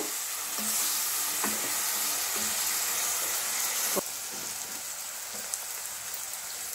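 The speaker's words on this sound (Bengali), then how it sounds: "হালকা করে সতে করে নেব।" Chicken with curry leaves sautés in a pan with a continuous loud sizzle. Occasional clicks from stirring break through the hiss, and no voices are heard.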